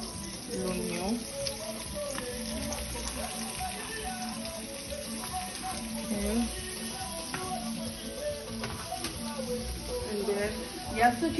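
Onion sizzling in hot oil for a fataya stuffing, a steady quiet crackle running throughout beneath a voice talking over it.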